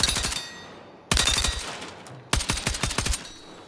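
Tap-firing a gun in Battlefield 6: three short bursts of rapid, crisp shots, each burst a quick cluster of reports separated by brief pauses, loud and close with no talk.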